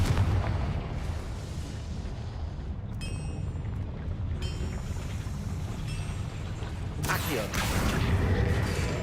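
A Confringo explosion spell goes off in a video game, a deep booming blast erupting near the end over a continuous rumbling, mechanical background.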